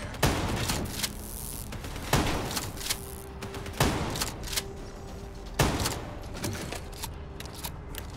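Gunfire in Call of Duty: Black Ops 3 rings out as four loud, sharp bursts spaced about every two seconds, each one trailing into a rumble of mechanical clatter.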